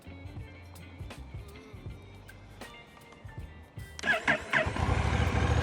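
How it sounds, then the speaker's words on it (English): A Honda CMX1100 motorcycle sits quietly with a low idle-like rumble, then its engine catches near the end with a sudden loud, rough burst that holds steady and close. "so we'll start her up, give her a little rev."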